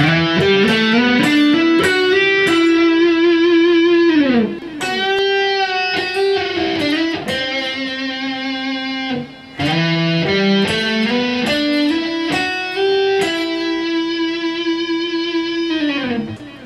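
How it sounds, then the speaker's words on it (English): A distorted electric guitar plays a lead line of rising and falling notes up a C Lydian scale starting on E, with a few pauses between phrases, loud and up close. "I just basically played up a C Lydian scale, but starting on an E in this case"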